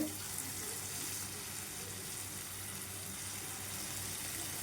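Small idli-batter fritters (punugulu) frying in oil in a kadai over a medium flame, giving a steady, even hiss and crackle throughout at moderate, close level with no talk.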